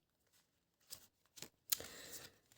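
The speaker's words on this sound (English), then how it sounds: "I will record the shuffling process so that you can infuse your energy" Tarot cards being shuffled by hand off camera, a few soft brushing riffles followed by a longer, steady papery shuffle, close and quiet with no talking.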